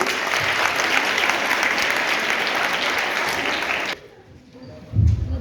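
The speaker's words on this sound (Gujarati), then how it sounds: "જોરદાર તાળી આપો ભાઈ." An audience at a Jain religious lecture in Gujarat claps loudly and continuously for about four seconds, then stops abruptly. A brief quiet follows before a voice starts speaking.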